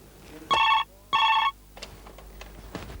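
An office telephone rings twice, two loud electronic bursts spaced by a short pause, then quieter background sounds follow.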